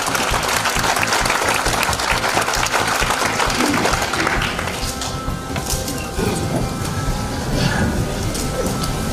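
A lecture audience applauds to welcome a guest lecturer, a loud, sustained wash of many clapping hands that thins slightly partway through but carries on to the end.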